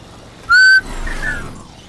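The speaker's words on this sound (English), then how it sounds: "He turns on with a whistle." A single clear, loud person's whistle on a steady high pitch lasts about a third of a second, followed by a fainter gliding tone over a quiet background.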